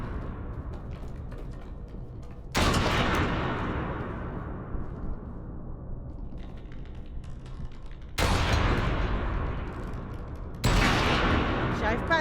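Three sharp, heavy blasts of gunfire in the video game Reanimal, each decaying slowly into a lingering tail, with quieter game sounds between them.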